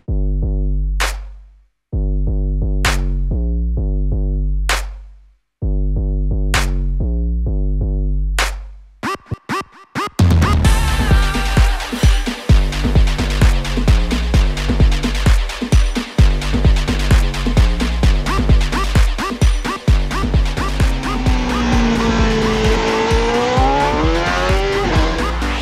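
A motorcycle runs its first lap on a race track on hot asphalt. A loud, close engine drones at steady pitch with brief drops between, then hard revving and gear changes surge on continuously with rising and falling whine.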